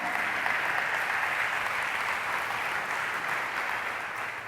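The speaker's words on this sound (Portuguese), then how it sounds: "Alguém pode dar uma salva de palmas para Jesus?" A church congregation at a celebration service bursts into sustained, dense applause, many hands clapping together close and loud, holding steady for several seconds before easing slightly at the end.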